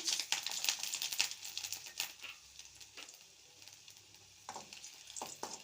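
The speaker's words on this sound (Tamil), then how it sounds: "பூண்டு சேர்த்து நல்லா வதக்கிக்கலாம்" Garlic cloves fry in a hot pan for idli podi, giving a close, crackling sizzle broken by sharp stirring clatters. The clatters bunch at the start and return near the end.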